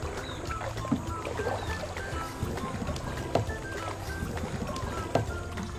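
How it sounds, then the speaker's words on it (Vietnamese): A three-plank wooden rowboat glides on a river in Hau Giang's Mekong Delta waterways. Water gurgles and laps steadily around the hull, with soft splashes recurring every couple of seconds and faint voices in the background. "Còn cái xuồng mà hai cô cháu đang đi gọi là xuồng ba lá."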